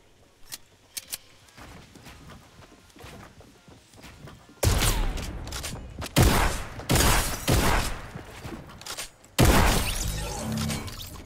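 Gunshots ring out in the video game Fortnite: sparse faint pops at first, then a series of loud, sharp, cracking blasts spaced a second or so apart, each with a short ringing tail.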